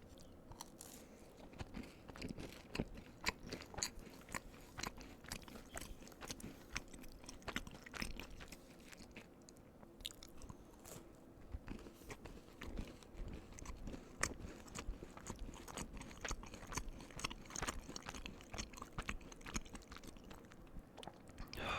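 Crumbl cookies bitten and chewed close to the mic, a dense run of soft crunches and moist chewing that keeps going steadily with no talking.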